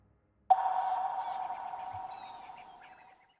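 A fork-tailed drongo at an African waterhole mimics a Diederik cuckoo, giving a single loud, clear whistled note that starts abruptly and fades slowly over about three seconds against quiet bush ambience.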